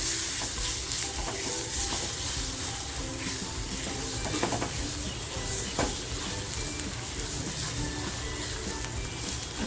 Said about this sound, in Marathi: मसाला सुद्धा असा छान कांद्याबरोबर परतवून घेते आहे